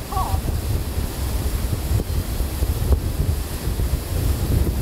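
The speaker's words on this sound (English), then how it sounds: "It is so windy." Strong wind buffets the microphone on a Miami beach while surf roars steadily in the background, giving a continuous rushing blustery noise with occasional gust thumps.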